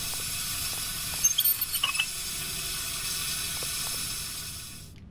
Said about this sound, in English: Run through the steam!